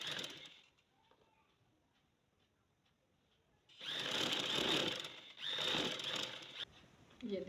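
A sewing machine stitches lace onto fabric, its loud mechanical whir running in two bursts after a quiet stretch of faint sounds.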